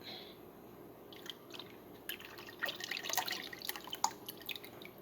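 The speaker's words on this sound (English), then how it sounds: "just pour this back into the crock pot" Liquid trickles and drips into a crock pot at close range, quiet at first and then a burst of splashy pouring before tapering off.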